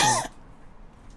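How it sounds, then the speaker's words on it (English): A person clears their throat once during a livestream, a short rough burst that stops abruptly and leaves near silence behind it. "I was clearing my throat."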